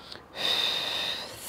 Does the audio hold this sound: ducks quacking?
no